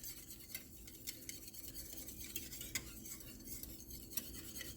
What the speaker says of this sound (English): add a little more broth and whisk it again